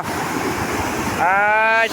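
Broad, steady rush of a waterfall fills the scene, and a voice briefly rises over it near the end.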